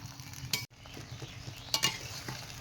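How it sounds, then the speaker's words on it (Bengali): Jujube berries for pickle fry in a pan with a constant sizzle. A spoon stirs them, and its scrapes and clinks against the metal stand out sharply several times. "কুলটা নড়াচড়া করে ভেজে নিতে হবে।"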